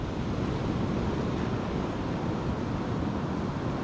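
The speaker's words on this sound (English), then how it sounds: "It's the wind, waves, and crabs." Wind and surf breaking on Easington Beach on the Holderness coast of the UK during surf fishing: a constant broadband rush of waves with wind buffeting the microphone, loud and unbroken, no voices.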